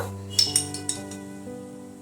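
A metal spoon clinks a few times against a dish or jar while poppy seeds and white sesame seeds are spooned out for a mung bean poppy paste, with sharp close taps over a steady background hum.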